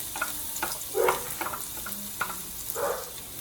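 Garlic sizzles and spatters in hot oil in a home kitchen while pancit is being cooked, with bursts of frying crackle rising and falling as it is stirred, close and moderately loud with no talking.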